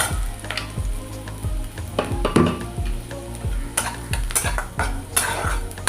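Onions fry and sizzle in a pan while a spoon stirs them, its repeated scrapes and clinks ringing out over a steady sizzle for several seconds. No one speaks.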